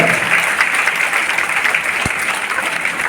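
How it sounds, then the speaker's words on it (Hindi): A live audience applauds steadily and loudly, a dense, even roar of clapping from a crowd that fills the whole moment without a break. "ये मुजफ्फरपुर वाली ताली है।"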